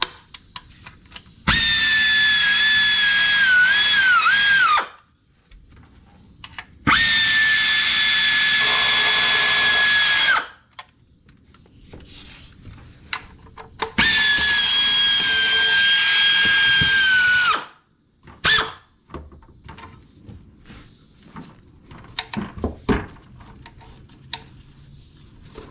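Power tool running the oil pan bolts snug on a 2014 Dodge Journey 3.6L, three loud sustained whirring bursts of a few seconds each with pitch sagging at the end, separated by quiet pauses and a few faint clicks and clatters.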